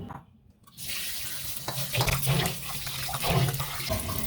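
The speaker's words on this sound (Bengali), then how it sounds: "এবার আমি চালগুলোকে ধুয়ে নেব।" Rice for chicken biryani is washed under running water, with a steady close rush of tap water into a bowl and sloshing swirls as the grains are gently rinsed.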